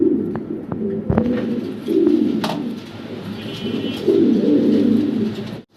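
Pigeons in a pigeon house coo in soft, repeated throaty rolls, several birds overlapping close by, with a few sharp clicks and flutters and no one speaking.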